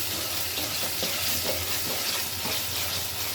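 Marinated chicken fries in a pan, making a soft, continuous sizzle with faint stirring scrapes, quiet and close, with no voices.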